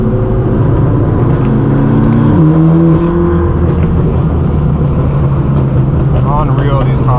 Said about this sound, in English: Whatever car that was,